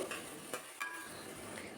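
Large onions sizzle and sauté in a pan for Kumbakonam kadappa, a soft steady frying hiss with occasional stirring scrapes, close and fairly quiet.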